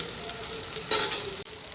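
Food frying in oil in a pan, a soft continuous sizzle with a short louder flare near the middle and a quick clatter, heard close and alone without any voices.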